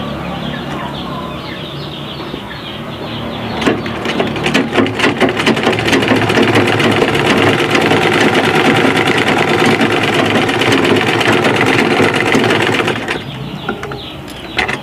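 A sewing machine stitching fabric for a scrunchie gives a loud, close, continuous mechanical whir that runs for several seconds, then stops, with faint handling noise before and after.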